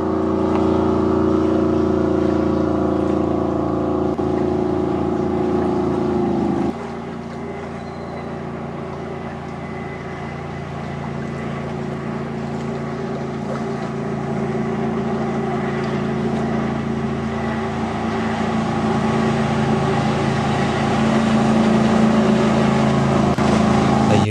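A jet-propelled boat prototype powered by a conventional automotive engine runs on open water, giving a continuous loud engine drone that drops in pitch partway through and then slowly builds again.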